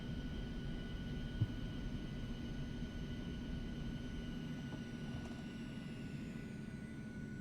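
Aerobask Eclipse 550 jet in a flight simulator game, a steady continuous engine whine and rumble with a thin high tone on top, constant in level throughout, no talk.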